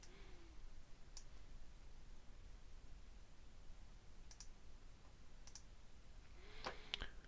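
Computer mouse clicking at a desk while installing software, a few sharp, faint clicks spread across a quiet stretch with a small cluster near the end and no talking.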